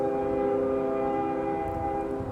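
A train sound effect: a sustained, steady horn-like tone with rich layered pitch holds for the whole clip over a low rumbling bed, loud and continuous.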